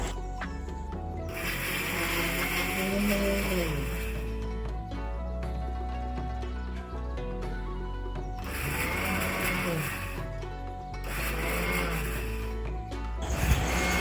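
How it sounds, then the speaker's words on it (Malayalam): An electric mixer grinder grinds coconut chutney, whirring in several loud bursts separated by short pauses, over a steady low hum. "നല്ലപോലെ അരച്ച് ചമ്മന്തി എടുക്കേണ്ടതാണ്"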